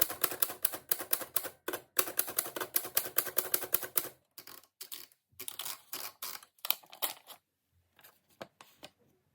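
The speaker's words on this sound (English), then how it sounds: "I want to type out with my" Vintage typewriter typing out a short sentiment: rapid, crisp key strikes in a dense run that then breaks into sparser bursts with pauses, close and clear with no talk.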